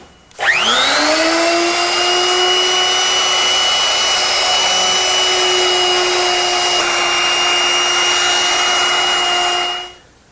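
A bearing-guided router cuts along a wooden medicine cabinet door, spinning up quickly to a loud, steady high whine that holds for about nine seconds before winding down.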